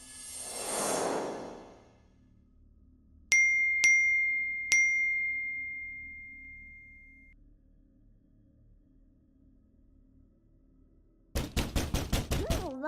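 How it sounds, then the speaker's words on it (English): A quick series of about seven loud, sharp knocks on a door comes at the end, after a soft whoosh and three ringing electronic tones in an otherwise quiet scene. "Knocking on the door."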